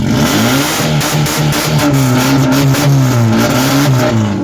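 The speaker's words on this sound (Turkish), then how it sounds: "Egzoz patlak mı? Patlak." A school service vehicle's engine revs steadily with a rough, rattling exhaust note from a blown exhaust, loud and close throughout.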